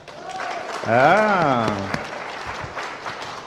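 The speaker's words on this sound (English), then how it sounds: "clap your hands if you doubt Lazar's story" An audience claps scattered hands during a talk, while a voice gives a drawn-out exclamation over the brief patter.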